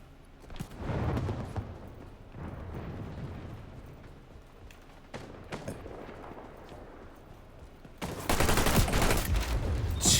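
Gunfire in the shooter game XDefiant comes as fairly faint, scattered shots and rumbling bursts, then turns louder and denser near the end.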